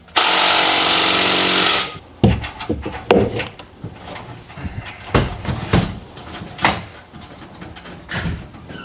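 Pneumatic impact gun tightening an aftermarket CSZ exhaust on a BMW X3 M40i, a loud sustained buzzing burst of nearly two seconds followed by scattered clanks and knocks of tools and metal parts.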